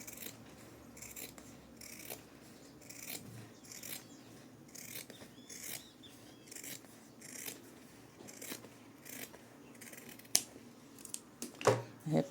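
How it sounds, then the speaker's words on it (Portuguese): Scissors snip and rasp steadily through the zipper seam of a fabric backpack, a close, quiet run of repeated cutting strokes with small rustles and a few sharper clicks near the end. "Eu posso cortar aqui, ó, tranquilamente."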